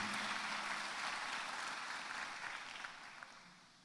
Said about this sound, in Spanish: Un fuerte aplauso a su pastor